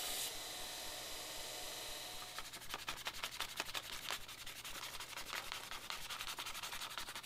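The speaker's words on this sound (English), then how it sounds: "right now I'm just rounding the front edge of the scales before I apply them" Sanding rounds the front edge of custom knife handle scales: a steady run of quick, rhythmic abrasive strokes, fairly quiet and close, with no voices.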